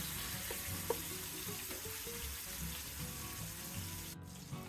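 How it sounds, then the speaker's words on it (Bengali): Tandoori chicken fries over high heat on a stovetop, giving a continuous, fairly faint sizzle and crackle with a small tap near the start. "অপর পাশটা আমি 1 মিনিটের মতো হাই হিটে ভেজে নেব"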